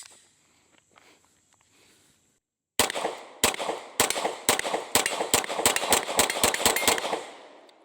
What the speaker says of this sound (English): Let's go ahead and fire our last 2 mags through it for this review.